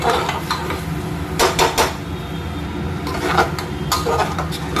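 A spoon scrapes and clinks against a cooking pot while dalia khichuri is stirred, in a run of close, uneven metallic knocks and scrapes over a steady low background hum.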